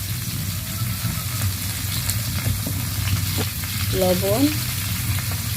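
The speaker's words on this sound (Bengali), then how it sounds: "কপিটা ভেজে নিই।" Cauliflower with turmeric and a bay leaf fries in a pan with a steady, close sizzle and crackle. Stirring scrapes through it, and a brief spoken word is heard near the end.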